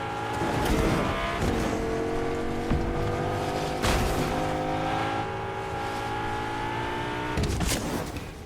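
Continuous engine roar of a car driven in Fortnite, steady and loud, with brief bursts of tire noise and gear shifts, no voices.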